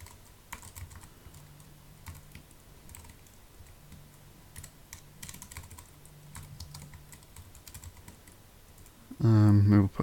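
Someone types steadily on a computer keyboard while coding, producing quick, fairly quiet key clicks in an uneven rhythm, close by. A voice begins briefly at the very end.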